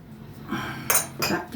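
Spoon stirring chicken and pumpkin cutlet mince in a bowl, a few close scraping and clinking strokes against the dish in quick succession, no speech.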